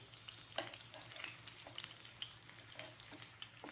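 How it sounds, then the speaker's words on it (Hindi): Fish frying in oil over a low flame, a soft steady sizzle with faint crackles and a few sharp pops, close and quiet throughout. "धीरे से टर्न कर लें और थोड़ी देर हम लो फ्लेम पे ही इसे फ्राई करेंगे"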